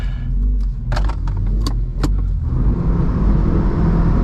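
Mitsubishi Evo Tommi Makinen driving on high boost, a steady engine drone with a few sharp clicks and rattles inside the cabin, the engine roar building stronger toward the end.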